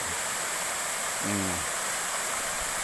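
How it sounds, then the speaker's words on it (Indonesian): A waterfall about 20 metres high in Nagari Supayang roars with a steady, loud, unbroken rush of falling water, a faint brief tone rising once under the noise. "Ini dia gambar air terjunnya"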